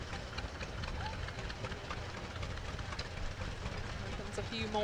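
Antique tractors idle and putter along during a slow race, a low, steady engine rumble with soft knocking beneath, while people talk nearby.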